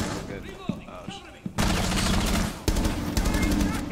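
Loud bursts of rapid automatic gunfire in Rainbow Six Siege follow a few scattered single shots and thuds, two sustained volleys close by.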